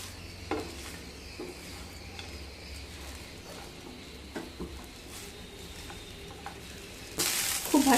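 Lemon rice with salt, lemon juice and fresh coriander stirred in a pan, with a soft steady scraping and gentle sizzle, a few light spoon knocks, and a louder clatter at the very end.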